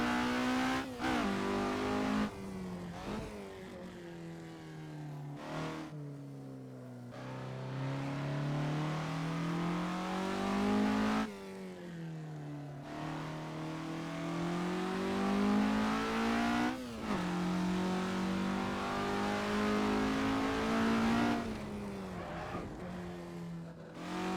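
A 1965 Alfa Romeo GTA driving hard on a twisting road, its engine revving up and dropping repeatedly through gear changes, loud and continuous with a clear climbing whine on each pull.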